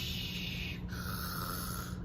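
A voice imitates a dragon's snore: a single drawn-out rasping, rumbling breath, close and steady, with no other sounds.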